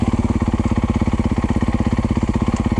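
A Yamaha YZ250F dirt bike engine lugs at very low revs, its loud, slow, evenly pulsing thumps repeating close up without pause.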